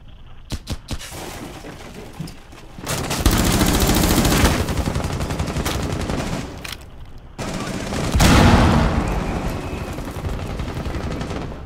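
Light machine gun fire in Rainbow Six Siege, heard after a few scattered early shots, comes as two long, loud sustained bursts broken by a short pause, with sharp reports close by.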